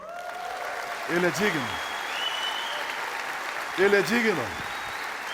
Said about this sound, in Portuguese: Você quer abençoar Jesus com aplauso?